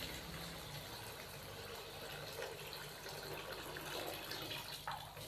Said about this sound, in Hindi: तो अभी हम इसके अंदर पानी शामिल करेंगे।